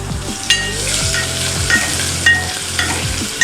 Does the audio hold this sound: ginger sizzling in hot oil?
yes